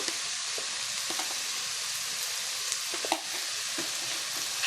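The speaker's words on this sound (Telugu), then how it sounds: "కొంచెం సేపు ఇట్లనే ఫ్రై చేద్దాం" Potatoes and corn frying for pulao make a continuous, close sizzle. Soft scraping and tapping from stirring come through at irregular moments, with no talking.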